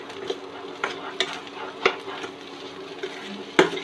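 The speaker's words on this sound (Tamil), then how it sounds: "உப்பு சேர்த்து நல்லா மிக்ஸ் பண்ணி விட்டுக்கலாம்." Potato bonda filling being stirred with salt in a pan, a spoon scraping and knocking against the metal several times over a soft sizzle, close and fairly loud, no speech.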